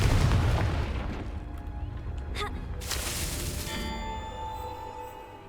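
Confringo blasting spells in Hogwarts Legacy burst with sharp, booming explosions, a loud impact at the start followed by further cracking blasts that fade into a ringing, decaying tail.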